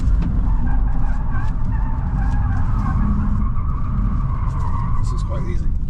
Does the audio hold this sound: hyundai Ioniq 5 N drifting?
yes